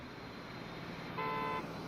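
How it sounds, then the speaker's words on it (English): A train in the video game Transport Fever gives one short, steady horn blast, moderately distant, over a continuous low rumble. "now let me see if the train honks"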